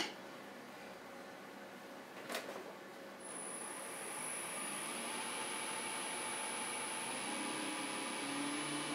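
A wood lathe spins a milk pear candlestick blank, a steady whirring hum with a high whine that starts a few seconds in and holds, plus a brief tool contact early on; no talking.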